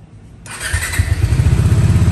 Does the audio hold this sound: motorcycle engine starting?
yes